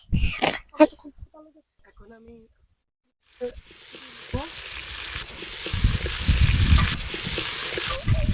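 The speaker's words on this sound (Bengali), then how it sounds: "মা দেখো কিভাবে ভাজি ভাজি শব্দ হচ্ছে এই দেখো মা ফুলে গেল" Luchi deep-frying in hot oil, a rising bubbling sizzle that swells as the bread puffs, following a few seconds of a person talking and then a brief silence.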